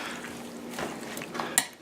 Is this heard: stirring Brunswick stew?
yes